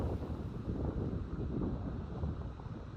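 Wind gusts buffet the microphone outdoors in the Montana mountains near high cliffs, a continuous broadband roar with gentle swells, fairly soft and steady throughout, no voices.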